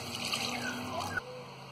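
Water is poured from a glass into a cooking pot for mutton moti pulao, a close, steady splashing trickle that stops abruptly near the end.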